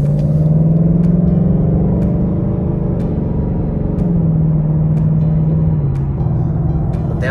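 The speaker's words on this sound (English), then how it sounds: "And since there's 10 gears, it's always going down gears." A 2018 Ford Mustang GT with a 10-speed automatic rumbles steadily from inside the car as its engine note drops in stepped downshifts, with faint periodic ticks over the low drone and no talking.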